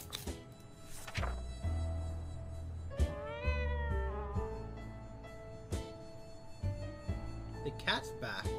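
A cat in the survival video game 60 Seconds! Reatomized meows several times, with drawn-out, wavering cries, including one long yowl in the middle, over soft game ambience.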